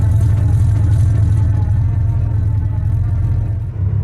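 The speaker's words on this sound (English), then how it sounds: "Well, with the truck running," A 1979 Ford F150 Supercab truck engine runs steadily up close, a loud low rumble holding an even idle throughout with no talk.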